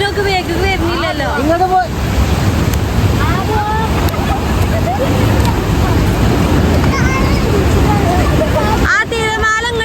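Ocean waves breaking on a beach under wind, a continuous loud wash of surf with swelling surges, while excited voices and children shout and talk over it throughout.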